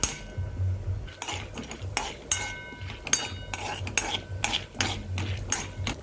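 Drumstick leaves are stirred as they roast in a pan with oil and chana dal, a spoon scraping and clinking against the metal in repeated close strokes, with a faint sizzle underneath and no speech.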